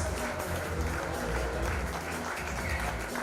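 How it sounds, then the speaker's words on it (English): Fairly quiet applause from an audience at a nightlife awards convention, a steady wash of clapping over a low rumbling hall background and music-like hum, continuing evenly without a clear voice on top. "Let's have a big round of applause."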